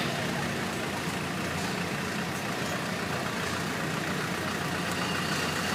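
A 1955 IH Farmall 400 diesel tractor engine running steadily in an outdoor parade, a continuous low, rough rumble that holds at an even, fairly loud level with no talk.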